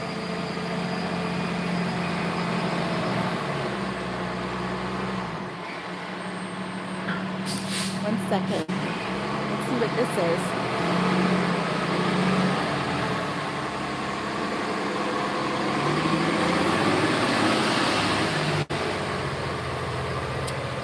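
A big truck with a round drum on it, like a cement truck, passes along a road with a loud, swelling rumble and short bursts of air hiss, while people talk nearby.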